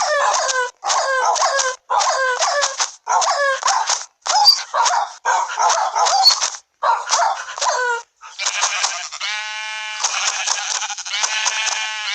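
Minecraft dogs yelp, whimper and bark in quick repeated bursts, loud and close, followed by a stretch of higher whining and bleat-like cries with no talk over them.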